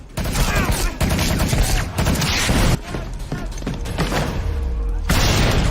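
Rifle gunfire in a martial-arts film battle scene, dense overlapping shots and booms that run loud and continuous across the whole stretch with no speech.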